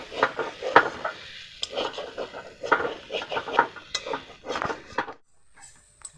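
A spoon or spatula scrapes and knocks against a pan in irregular bursts as ground spice paste is mixed into a singara filling, close and fairly loud, then goes quiet near the end.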